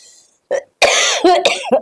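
A few sharp, close coughs in quick succession, loud and abrupt, with brief pauses between bursts.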